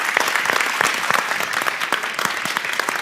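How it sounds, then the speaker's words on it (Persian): Audience applause at a Persian-language gathering welcoming a guest performer, a dense steady wave of clapping that fills the whole stretch with no speech over it. "استاد کریم منصوری رو تشویق بکنیم."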